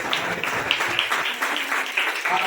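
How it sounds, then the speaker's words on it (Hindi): A church congregation claps along during a fasting prayer service in an even, steady rhythm that continues throughout the clip. "सब ताली बजा के"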